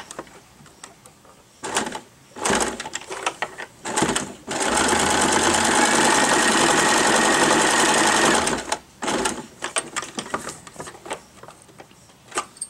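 Electric sewing machine driven by a foot pedal, running in a loud steady whir for about four seconds, with shorter stop-start bursts and clicks of handling before and after.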